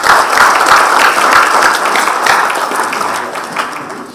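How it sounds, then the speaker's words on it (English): Loud applause from a conference audience after a plenary talk on nanoscience, a dense sustained burst of clapping that stays strong for several seconds before gradually thinning out. "A big round of applause, ladies and gentlemen."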